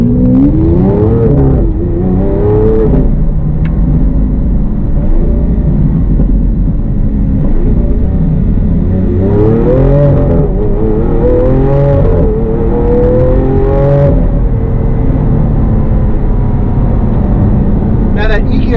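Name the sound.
Lamborghini Aventador engine while making a U-turn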